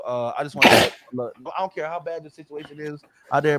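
A single sharp sneeze bursts out close to the microphone during a talk show conversation, surrounded by a man's speech before and after.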